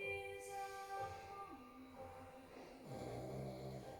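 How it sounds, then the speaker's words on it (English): Faint, low snoring from a pug with nasal, wheezy tones, rising and falling in slow breaths, quiet and alone. "Sorry for my pug snoring if you can hear it."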